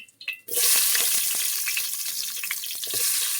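Fish dropped into hot oil for light frying, a loud sudden sizzle that bursts in after a brief quiet start and keeps hissing steadily with small crackles.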